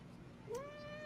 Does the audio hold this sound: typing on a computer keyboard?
no